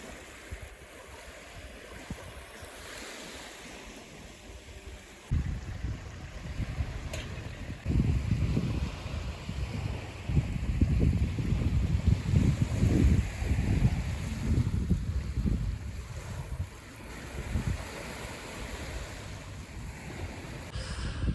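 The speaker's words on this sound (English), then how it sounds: "Just the gentle ebb and flow of the waves" Gentle waves lap at the shore in Corfu, a soft steady wash of surf with wind noise, quieter at first and then swelling into fuller, continuous rolling water with no voices.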